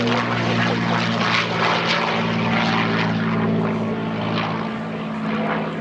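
Loud, steady drone of a P-47 Thunderbolt's radial piston engine and propeller at EAA AirVenture, holding a constant pitch near the listener without voices.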